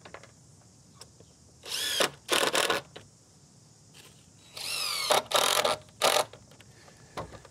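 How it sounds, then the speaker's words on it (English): A power drill drives screws into wooden gate palings in several short whirring bursts with pauses between, close and fairly loud, the motor pitch rising within each burst. "running a straight line across there and just throwing our screws in"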